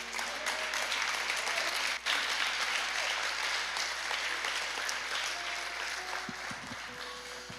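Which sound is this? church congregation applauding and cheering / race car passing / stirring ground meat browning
church congregation applauding and cheering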